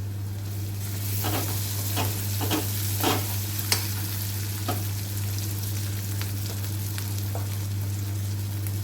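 Onions and tomatoes cooking in a pan for a home-style Gujarati meal, a steady soft sizzle with occasional stirring scrapes and clinks, close and alone without talk.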